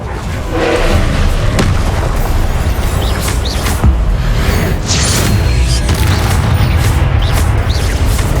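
Spell explosions from the video game Hogwarts Legacy, Confringo and Expelliarmus casts in a duel trial: loud continuous booming blasts with whooshes and crashes layered densely over one another throughout.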